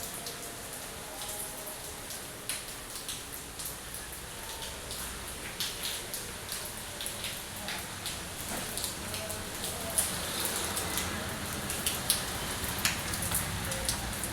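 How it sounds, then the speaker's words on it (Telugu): Rain falling outdoors in a steady hiss with scattered sharper drip taps that grow a little more frequent, while a voice speaks faintly at times underneath. "మళ్ళీ వర్షం స్టార్ట్ అయింది చూడండి"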